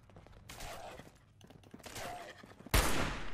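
Gunfire from the video game Fallout 76 comes in bursts of rapid shots, two muffled volleys and then a sharp, louder shot, with no talk.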